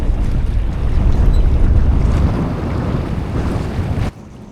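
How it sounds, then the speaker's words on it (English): A strong gust of wind through a mountain gap on Derwentwater roars and buffets the microphone aboard a Freedom 21 sailboat, sustained and loud, then drops off abruptly near the end. "That was a gust through the westerly gap in the mountains."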